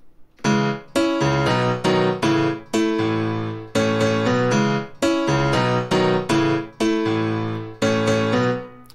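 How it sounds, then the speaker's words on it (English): Grand piano playing a rhythmic sequence of full chords, each struck clearly and left to ring briefly, steady and close with a wide, rich tone. "we will be looking at how you can make a very wide piano from a grand piano"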